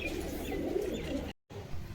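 Pigeons cooing softly for sale, a few low throaty coos close by, cut by a brief silent gap before resuming.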